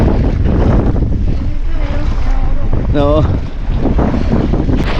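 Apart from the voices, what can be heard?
big sea waves and wind on a fishing boat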